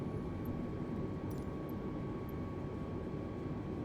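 Steady broadband roar of an Airbus A320 airliner on approach to land in a flight simulator, a continuous engine and airflow drone at even loudness with no talk.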